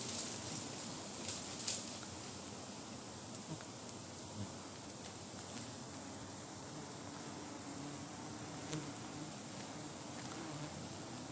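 Honey bees flying around a lifted bamboo trap holding a nest, a faint, steady outdoor buzz with a few brief louder passes of insects close by.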